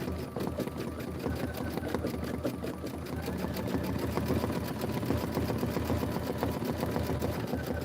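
An embroidery sewing machine stitches a grass design with a steady, rapid mechanical chatter of needle strokes that runs continuously and stays close and fairly loud throughout.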